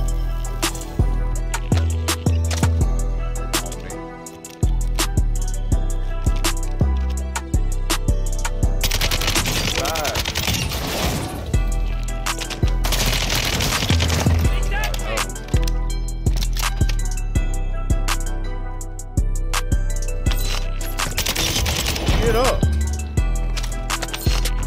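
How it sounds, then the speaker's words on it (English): Gunfire in Call of Duty Modern Warfare 2's Plunder mode, with sharp shots and bursts popping repeatedly over a steady game soundscape and background music, some bursts louder and closer than others, with no voices over it. "I heard a shoot."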